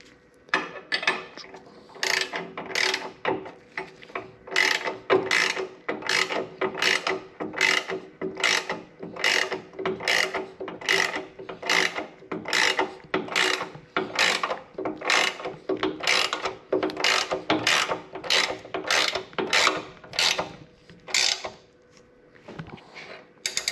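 A ratchet tightening the lower bolts of a Legend Suspension Revo ARC piggyback shock, steady clicking strokes in a regular rhythm repeated about twenty times, close and fairly loud, with no talking.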